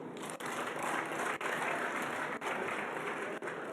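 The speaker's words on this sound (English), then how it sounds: "Yes, we can applaud." Steady applause from a parliamentary joint sitting, an even wash of clapping with faint periodic clicks, moderately quiet and unbroken.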